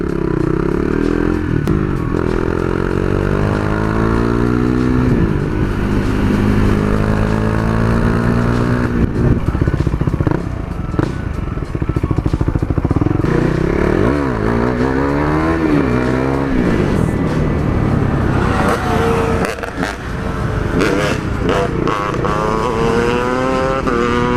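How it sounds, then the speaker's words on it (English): Small two-stroke pit bike riding around a neighbourhood, engine buzzing and revving up and down in repeated climbing and falling sweeps, loud and close, with clattering under the engine note. "Little two-stroker riding around the hood."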